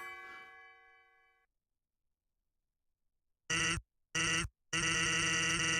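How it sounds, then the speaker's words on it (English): A fading church bell tone from the game Undertale dies away into silence, then three short, loud, buzzy bursts follow in quick succession, the last one held longer. "Yeah, the bells are definitely getting higher pitched each time."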